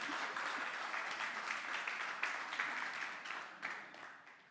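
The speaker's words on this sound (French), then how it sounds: "Et, ils sont en train d'acclamer." A congregation at a church service applauds and cheers, with sustained clapping at moderate distance that swells and fades in waves and has a few sharper peaks.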